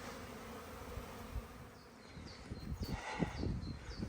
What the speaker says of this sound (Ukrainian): Обліт бджіл хороший сьогодні.